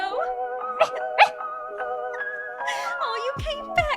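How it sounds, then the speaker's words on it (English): Small brown and white dog barking and whimpering as a radio drama sound effect, with short yips and whines over a sustained musical backing, fairly close and moderately loud. "there's a little brown and white dog looking all over for you"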